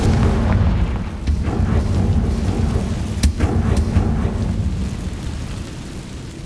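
A spell explosion from the video game Hogwarts Legacy arrives as a loud, deep rumbling blast that sustains a rolling boom and crackling debris, then slowly fades.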